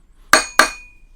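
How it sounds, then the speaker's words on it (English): A brass punch strikes a nut on a Rockwell Delta 6-inch tool grinder twice in quick succession, each a sharp, close metallic clink with a ringing tail. "and then I'll use a brass punch."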